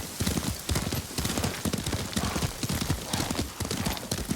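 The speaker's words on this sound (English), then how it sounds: "You ride with your father's grace." Horse hooves gallop at a fast, steady drumming rhythm, close and loud throughout, while riding in the video game Ghost of Tsushima, with broad noise underneath.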